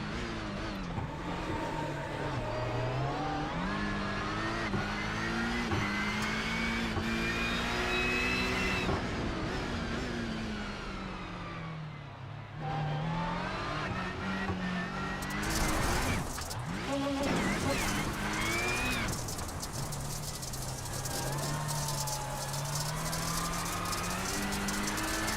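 Onboard a rallycross race car lapping the Iowa circuit, the engine drones loudly and continuously, its pitch climbing and falling through gear changes, with one deep dip where the car slows before it pulls hard again.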